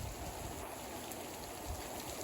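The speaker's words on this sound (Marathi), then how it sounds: "आता पाऊस खूप जोरात सुटलेला आहे" Heavy rain pours down in a steady, dense hiss that holds constant throughout, with no voices over it.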